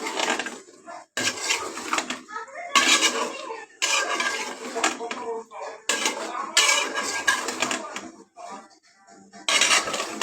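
Metal spoon scraping and clanking against a pot while spices are worked into a bean curry, in repeated bursts of stirring strokes with short pauses between, close and fairly loud.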